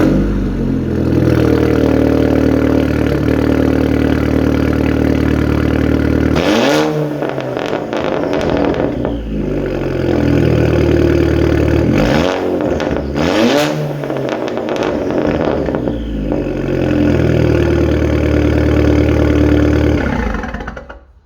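A B6 VW Passat 2.0T with a 3-inch downpipe idles loudly and close, breaking into two or three sharp revs that rise and fall before settling back to a steady rumbling idle.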